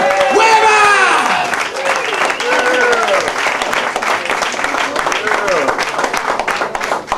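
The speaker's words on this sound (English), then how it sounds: "Let's give him a big cheer." A crowd at a Bronx salsa cabaret show gives a big, steady burst of applause and cheering for salsa founder Joe Torres, with a voice shouting excitedly over the loud, continuous clapping.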